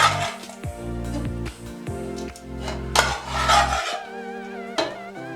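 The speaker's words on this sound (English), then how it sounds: "So now she's adding the meat." Meat going into a pot of Editan soup, an Akwa Ibom Nigerian dish, sets off a run of close clattering, scraping and knocking of utensils against the cookware, with a low hum underneath and no talk.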